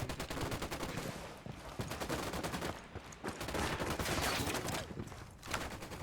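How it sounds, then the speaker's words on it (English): Sustained machine gun fire in Ghost Recon Wildlands, dense rapid bursts that keep going for the whole stretch with brief thinning gaps, loud and close, with faint talk underneath. "I'm gonna switch this out to an MG"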